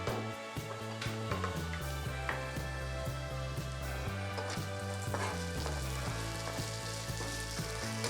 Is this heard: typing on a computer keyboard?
no